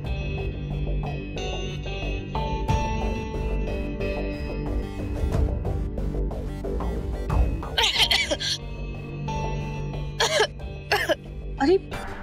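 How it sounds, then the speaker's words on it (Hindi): A woman coughs repeatedly in a Hindi TV drama household scene, the bursts rising over background music and dialogue, with a couple of sharper coughs near the end. "अचानक से तुझे इतनी खांसी क्यों आ रही है?"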